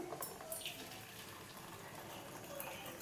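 Water from boiled green peas is poured off and strained, a steady close gushing splash with some faint voice in the background.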